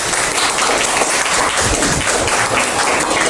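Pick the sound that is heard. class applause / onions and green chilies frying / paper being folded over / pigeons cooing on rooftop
class applause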